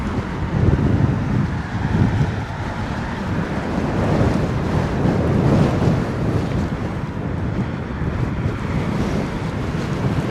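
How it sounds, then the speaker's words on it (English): Chilly wind gusts at London Heathrow Airport, a loud, continuous rushing roar buffeting the microphone with no break and no voices. "That wind is making it feel very, very chilly"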